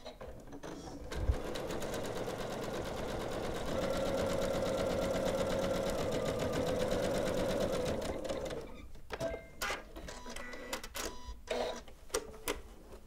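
A Janome machine sews a half-inch seam on patchwork house pieces, whirring steadily for about eight seconds before stopping, followed by scattered handling clicks and taps.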